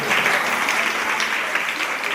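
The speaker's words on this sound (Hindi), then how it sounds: "समझ में आया हो तो ताली बजा दो।" Applause from the audience at the closing ceremony of a ten-day folk dance workshop, a dense, even burst of many hands clapping throughout.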